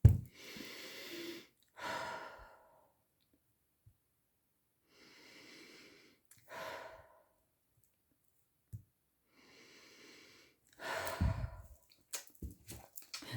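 Three slow, deep breaths, each a long inhale and exhale, spaced several seconds apart and fairly close, taken quietly to connect before a tarot card reading, with a few small clicks and rustles near the end.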